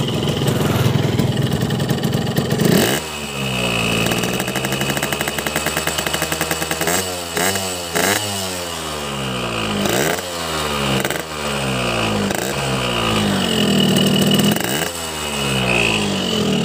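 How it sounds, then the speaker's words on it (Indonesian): Two-stroke motorcycle engine running on Ninja Racing Oil 2T, loud and close, idling roughly then revving up and down repeatedly in several sharp throttle blips, with no voices. "Coba kita geber sekali lagi ya."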